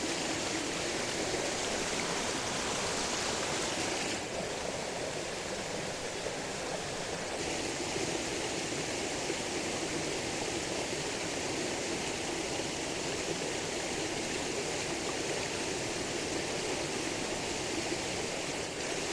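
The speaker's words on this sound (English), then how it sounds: "This is, the water is running a little bit faster right there" A wilderness stream in the Strawberry Mountain Wilderness runs steadily, a constant broadband rush of flowing water close by and unbroken throughout, with no voices.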